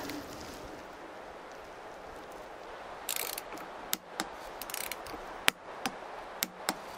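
A torque wrench gives the final tightening to a bolt: a series of sharp, separate clicks after about three seconds, spaced irregularly over a faint background hiss with no talking.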